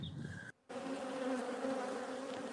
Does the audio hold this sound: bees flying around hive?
yes